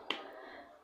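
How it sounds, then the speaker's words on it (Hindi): A single clap rings out from outside: one short, sharp smack, faint and somewhat distant, followed by a brief fading ring of room echo. "तब बाहर से एक ताली की आवाज़ आती है"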